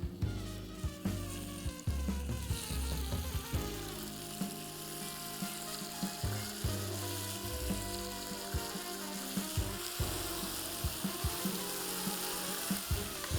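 Pork satay skewers sizzle in hot oil in a pan, a steady close crackling hiss broken by occasional sharper pops and clinks of a utensil, with no voices.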